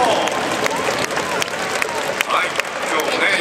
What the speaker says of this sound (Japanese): どうぞ皆さん大きな拍手を。